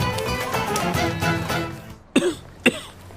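A man coughs twice in sharp, separate bursts near the end, following a stretch of busy background noise.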